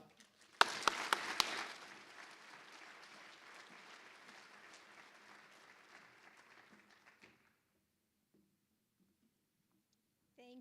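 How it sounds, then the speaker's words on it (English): Applause from a graduation ceremony audience for an honoree, opening with a few sharp loud claps, then steady broadband clapping that fades over about six seconds into near silence, with a faint voice at the end. "Please have another round of applause for Dr. Melissa Watt."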